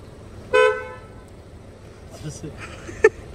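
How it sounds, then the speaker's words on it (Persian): A short car horn honk rings out, followed by quieter background chatter and a second brief blip near the end. "بوق بزن دلانا دادا بریم"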